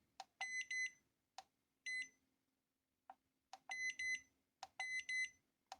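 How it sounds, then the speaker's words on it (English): An alarm on an XHDATA D-109 radio beeps indoors in short electronic bursts, mostly paired double beeps with brief single clicks between them, fairly quiet and close with near silence in the gaps. "Somehow the alarm is on."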